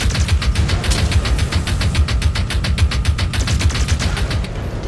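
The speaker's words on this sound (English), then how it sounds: "my medium pulse lasers ate through the blackjack's armour" Medium pulse lasers firing rapidly at a Blackjack mech in MechWarrior 5: Clans, a loud, steady stream of evenly spaced pulses over a rumbling engine drone, with no talk.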